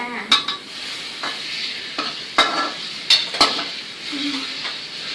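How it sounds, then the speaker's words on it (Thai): Garlic fries in a pan with a low steady sizzle, broken by several sharp metallic clacks of a utensil striking the pan while it stirs. "แล้วก็เจียวให้มันหอมนะคะ"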